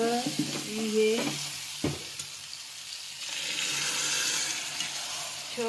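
Boiled chickpeas are stirred into Kolhapuri-style chole in a pan: a few ringing clanks and scrapes of a spoon against the pan come first, then a soft, steady sizzle takes over.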